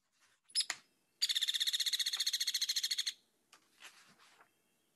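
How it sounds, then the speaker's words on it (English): A hairy woodpecker in southwestern Ohio gives a sharp call, then a rapid, even rattle of about twenty clipped notes lasting roughly two seconds, followed by a few softer scattered calls. "the hairy woodpecker's next"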